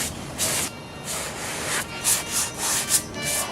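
Sanding block rubbed by hand over fresh plastic filler on a restoration piece, giving close, steady scratchy strokes in short repeated passes with no voices.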